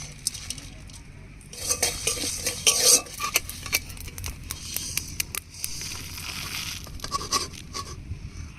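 Dry red chilies, coriander, cumin and black pepper roasting in a dry pan, stirred with a metal spoon that clicks and scrapes in quick irregular strokes over a soft rustle, close by.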